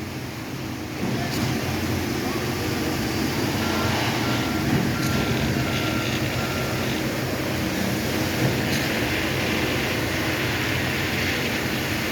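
Broadband rumble of heavy machinery and wind during an early-morning concrete slab pour, with faint intermittent beeps from a reversing concrete truck in the distance.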